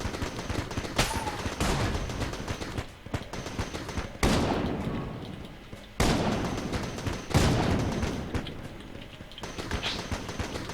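Gunfire from the Bullet King boss fight in the video game Enter the Gungeon: dense bursts of rapid shots and volleys, with several loud impacts and blasts punctuating a continuous barrage, no talking.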